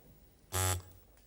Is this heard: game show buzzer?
yes